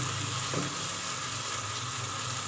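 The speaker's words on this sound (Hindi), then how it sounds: "अभी हम मसाले को और अच्छी तरह भूनेंगे।" Masala frying in a pan for a nargisi kofta curry gives off a steady, close sizzle with a constant hissing texture and no pauses.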